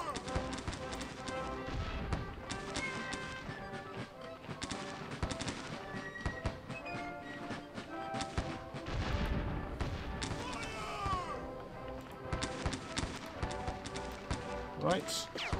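Battle sounds from the Sid Meier's Gettysburg video game: dense volleys of musket gunfire and booming artillery crackle continuously, with hoofbeats and someone talking throughout.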